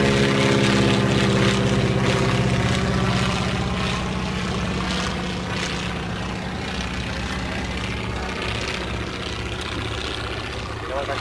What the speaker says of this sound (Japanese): このエンジンの音最高ですね。